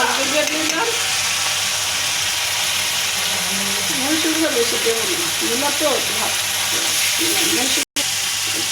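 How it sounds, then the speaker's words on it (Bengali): Spices fry and sizzle in a pan on a gas stove, a steady broadband hiss carried through with scraping stirs, while a voice talks over the cooking throughout. "মশলাটা কষানো হয়ে গেছে"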